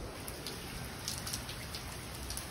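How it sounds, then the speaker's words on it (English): Steady rain falls during Hurricane Milton, a dense continuous hiss of drops on surfaces with a few slightly louder patters, even in loudness and with no voices over it. "It's raining."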